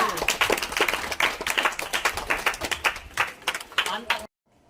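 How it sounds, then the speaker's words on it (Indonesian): Classroom applause for a student group: a brisk, fairly close patter of many hands clapping together for about four seconds before stopping abruptly, with voices faintly mixed in. "kasih aplaus untuk kelompok 2"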